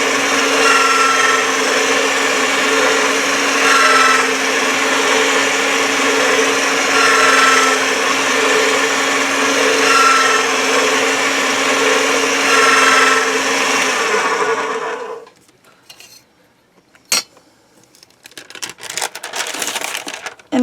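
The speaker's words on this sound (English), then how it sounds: "Run this through the pasta machine a little bit to condition it." A hand-cranked pasta machine rolls polymer clay for conditioning, giving a steady, loud whirring grind for about fifteen seconds that stops abruptly, followed by faint clicks and handling noises.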